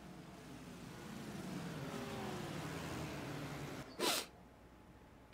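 Volkswagen Beetle (Fusca) race car accelerating in the TTR World Tour racing game. The engine drone climbs steadily in pitch and stays fairly faint, then a brief sharp burst of noise cuts in near the end.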